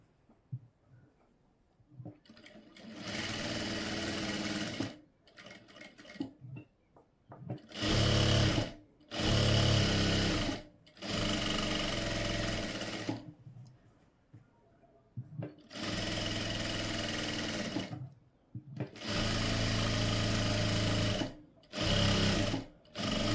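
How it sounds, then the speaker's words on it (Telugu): A sewing machine stitches a blouse's lining and main fabric together in several loud whirring bursts of a few seconds each, separated by pauses and soft handling noises. "ఇప్పుడు లైనింగ్ మెయిన్ ఫ్యాబ్రిక్ కలిపి స్టిచ్ అయితే వేసేసుకుందాం"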